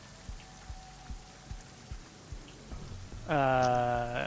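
Rain ambience playing quietly behind a tabletop role-playing game session, with soft patters and drops pulsing steadily before a louder tonal swell near the end.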